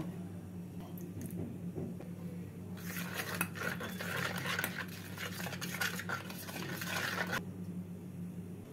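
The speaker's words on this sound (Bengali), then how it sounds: "অল্প জল দিয়ে মশলাটাকে মিশিয়ে নেব।" Ground cumin, coriander, ginger paste and green chili paste are stirred with a little water, a spoon scraping and clinking against a bowl in a dense rubbing burst of a few seconds, near and fairly quiet, with no talking.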